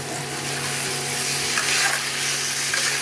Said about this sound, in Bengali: এখন এই ভেজে রেখেছি যে চালটা, গোবিন্দভোগ চালটা আমি দিয়ে দিলাম। ভালো করে আমি মিশিয়ে নেব।